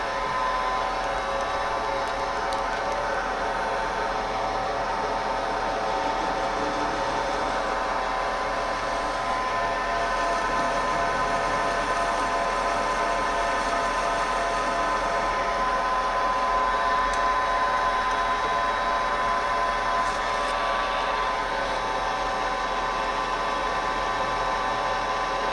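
A machine runs with a steady, even whine while chamfering stud holes drilled for 1/2-inch studs in a Mazda RX8 13B Renesis rotary engine block. The tone holds constant throughout, loud and close, with no voices.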